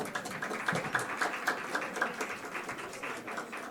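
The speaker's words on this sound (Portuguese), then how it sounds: "Uma salva de palmas" Applause from a conference audience welcoming a lawyer taking a seat on a medical data-protection panel, a thin patter of claps, fairly faint and steady for a few seconds.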